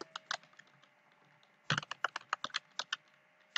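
Fingers typing a code comment on a computer keyboard during a Python data-analysis session: scattered light clicks, then a denser run of sharp, evenly spaced keystrokes, close and clear with no speech.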